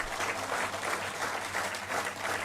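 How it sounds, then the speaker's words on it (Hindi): A crowd at an Indian political rally gives sustained, even applause, a dense wash of clapping heard from some distance at moderate loudness, without any speech over it. "जोर से एक बार इनके लिए भी ताली बजाएं।"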